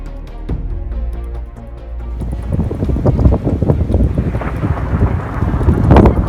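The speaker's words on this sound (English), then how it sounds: "Thunder snow." A winter storm in Boston brings thunder snow: a deep, rolling rumble builds and swells over steady, gusting wind that buffets the microphone, growing louder toward the end.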